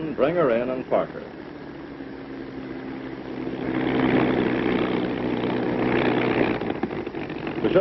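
A P-39 Airacobra fighter plane taxis in to park, its propeller engine droning steadily and swelling louder midway, with a voice talking briefly over it at the start.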